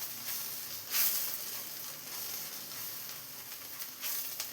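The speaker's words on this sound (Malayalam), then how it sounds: "ഇതെല്ലാം കൂടെ ചേർത്തൊന്ന് പൊടികളൊന്ന് ജസ്റ്റ് ഒന്ന് ഇതുപോലെ ഒന്ന് ചൂടാക്കി എടുക്കാം." Garam masala and chicken masala powders heating in a pan for a coconut-milk chicken dish give off a soft, steady sizzle and hiss, with a few brief louder bursts, close by and with no voices.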